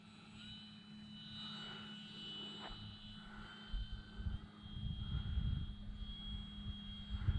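A Hacker XL Zoom radio-controlled plane with an electric motor and a large propeller flies at slow speed, its faint whirring drone swelling and fading, then growing louder as it passes closer.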